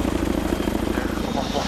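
A Chinook helicopter sits on the ground with armed Taliban fighters about a mile away, its engines and rotors making a loud, continuous throbbing drone at close range.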